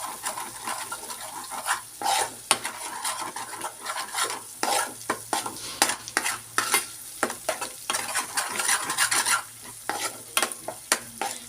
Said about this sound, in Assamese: মছলাখিনি অতি কমেও মই 2 মিনিটমান এইদৰে ভাজি ল'ম।